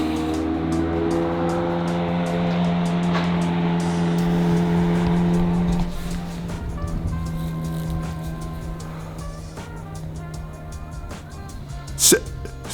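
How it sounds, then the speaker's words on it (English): A McLaren supercar drives along a residential street, its engine a steady loud drone that holds for several seconds and then eases off as it moves away, with a short sharp sound near the end. "Since when is there a McLaren driving down my street?"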